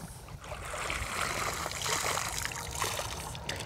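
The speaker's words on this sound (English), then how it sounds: "you drag it along the bottom and you try to get the stuff on the bottom into the net" A D-net dragged along a stream bottom while collecting aquatic insects gives a steady watery rush and trickle with soft splashing, close and continuous.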